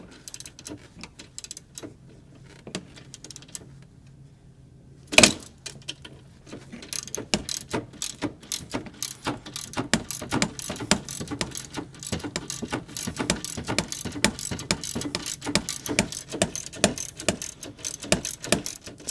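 A ratchet wrench loosens a long bolt on the AC condenser of a Chevy Cobalt, a few scattered clicks and a sharp clank giving way to steady, rapid ratcheting close up.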